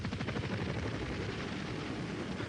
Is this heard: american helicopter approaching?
yes